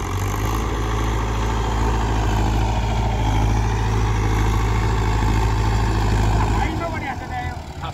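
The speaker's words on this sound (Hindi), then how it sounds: "बिल्कुल साउंड प्रूफ चलता है ट्रैक्टर," A Mahindra Yuvo Tech Plus 575 DI tractor engine idles with a steady low diesel drone and hum that drops away near the end, while people talk nearby.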